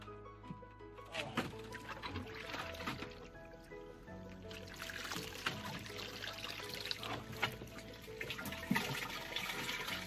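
Water pours steadily into a rubber tub used for holding fish on a fish farm, a continuous splashing wash with a few brighter bursts, heard up close.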